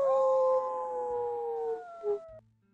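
A person imitates a wolf howl in one long, loud, wavering tone that slides slowly downward, then breaks off with a short falling yelp before it cuts out.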